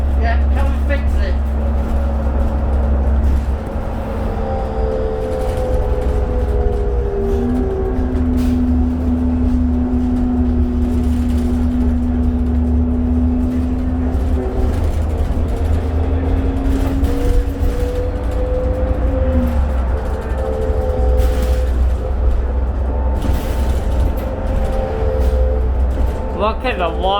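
Steady diesel drone of a 2003 New Flyer D40LF low-floor city transit bus from onboard, with engine and transmission tones rising and shifting through gear changes, a continuous loud rumble throughout.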